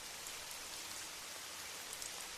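Steady rain falling outside a quiet shop, an even soft hiss of drops with faint scattered patters and no voices.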